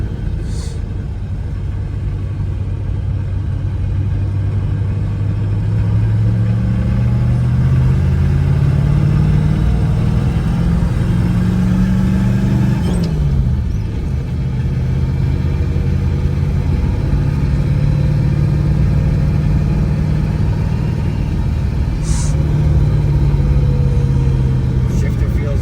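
A 1967 Chevrolet Camaro RS with a four-speed runs at a mellow, fairly stock-sounding idle, its low exhaust rumble steady and close with a gentle rise and fall in pitch, while people talk over it.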